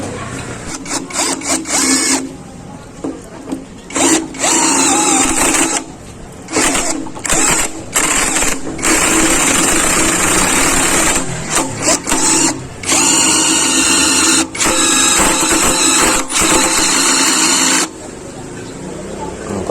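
Impact wrench running forward (clockwise) while working on a Yamaha STX 125 motorcycle ignition switch, in loud repeated bursts of buzzing, whirring drive separated by short pauses, with speech around it.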